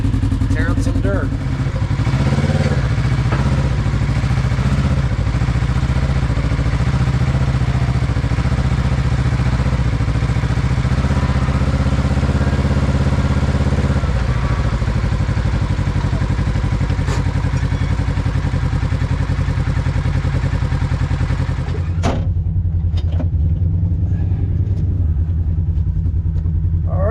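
A Kawasaki KRX 1000 side-by-side fitted with a PLM exhaust runs steadily at close range, its loud engine drone holding for most of the stretch before easing off, with brief talk over it.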